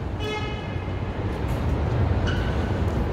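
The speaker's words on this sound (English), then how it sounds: "Yeah, I hear more trains coming." Trains rumble past in downtown Chicago on a busy street, a steady heavy roar of rail cars with faint squeals and hums from the tracks above, loud and continuous with no talk.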